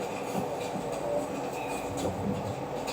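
A train rolls past behind a building, a steady broadband rumble with faint rail clatter holding at an even, fairly close level throughout.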